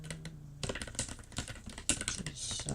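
Rapid, irregular keystrokes on a computer keyboard, close and fairly loud, clicking steadily for a few seconds while a college essay gets written at a desk.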